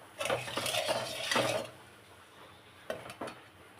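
Salt tipped into hot oil in a wok, heard as a brief sizzle with metal scraping and stirring, followed by quieter stretches and a few short clinks near the end.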